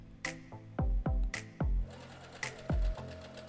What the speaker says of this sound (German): nähe dann weiter, bis ich ganz oben angekommen bin